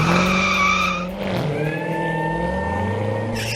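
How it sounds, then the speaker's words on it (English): A Corvette skids with a loud, sustained tire squeal over a droning engine whose pitch bends and shifts partway through. "Where the heck did this Corvette come from?"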